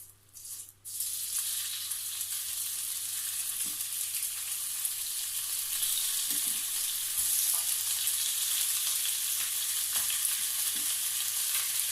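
Chicken breast sizzles and fries steadily in a little hot oil in a pan, a constant close crackle with occasional faint clinks from a utensil.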